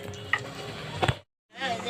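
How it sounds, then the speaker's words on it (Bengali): Luchi puffed flatbread fries in hot oil for an Ashtami meal, giving a close, crackling sizzle with a few utensil clinks and stirring scrapes, broken by a short silent gap before the sizzling resumes. "লুচি ভেজে নিচ্ছি।"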